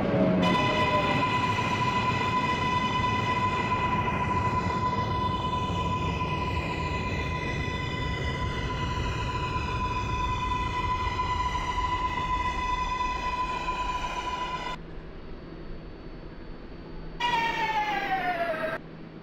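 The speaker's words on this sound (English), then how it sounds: "This is a Flushing Main Street bound 7 express train." An R188 7 express subway train in the OpenBVE simulator runs steadily, with a constant motor whine, a rising tonal hum and a broad rumble. The sound cuts briefly near the end, then resumes with a falling tone.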